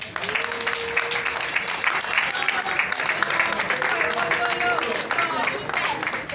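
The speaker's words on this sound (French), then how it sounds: "Je ne sens pas tellement ces applaudissements." An audience at an official ceremony applauds in a steady, dense patter of many hands, with a voice talking over the clapping.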